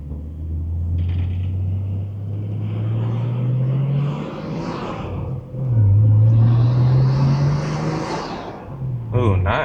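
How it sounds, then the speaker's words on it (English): A Nissan Skyline R34 sedan is driven with its engine and intake roaring loudly from inside, rising in pitch through two long pulls with a brief lift between, while people talk over it. "you just hear the intake really take over"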